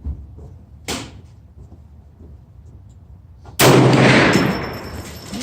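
Shots from a .450 Bushmaster rifle at an outdoor shooting range: a sharper, quieter report first, then a much louder blast a few seconds later that booms and rings out with a long fading tail.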